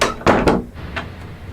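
An indoor door swung shut, giving two close, solid wooden thuds near the start and then a fainter knock as the room goes quiet.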